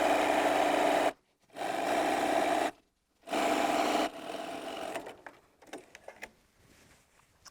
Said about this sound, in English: I can pick the next piece up and I can continue sewing this one